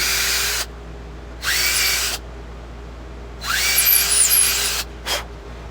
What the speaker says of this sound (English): So let's drill these holes out.